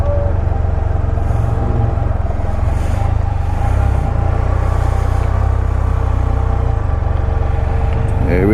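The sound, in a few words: vehicle engine while being parked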